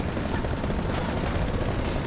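Gunfire in the co-op game Split Fiction aimed at a creature's legs, a dense, steady roar of rapid shots with no break, loud and close.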